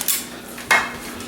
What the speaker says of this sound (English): I'm going to do a little scoop like this